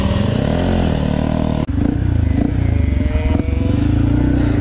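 A Yamaha WR 155 supermoto motorcycle runs loud and close during wheelie riding, its engine holding a steady, buzzing roar with a brief dip near the middle, alone without talk.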